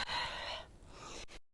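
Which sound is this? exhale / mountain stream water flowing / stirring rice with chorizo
exhale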